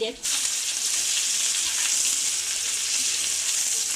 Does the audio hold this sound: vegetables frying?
yes